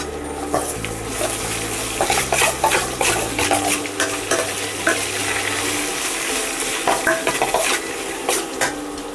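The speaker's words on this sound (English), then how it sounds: "fry it nicely until golden brown color" Oil sizzles steadily while a spoon scrapes and clinks around a pan as onions fry for puffed rice upma, with repeated close stirring strokes over a constant frying hiss.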